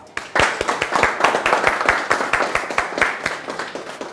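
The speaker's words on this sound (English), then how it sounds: "Ladies and gentlemen, a round of applause for Modella." A small group claps for a pageant trainer at a Mr World Nigeria training camp, the individual hand claps distinct and rhythmic, starting abruptly, close and fairly loud, then slowly thinning out.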